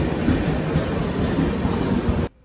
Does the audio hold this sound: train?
yes